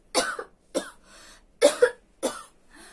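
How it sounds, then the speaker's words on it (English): A person coughs four or five times in short separate bursts, close to the microphone, with brief silent pauses between them. "Can make people coughing."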